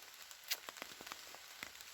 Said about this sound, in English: it's just started belting down with rain